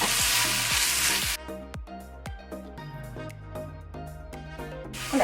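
Spinach hits a hot pan with a loud, broad hiss that suddenly drops to a quieter sizzle with clinks and taps, before a burst of loud sizzling returns at the end.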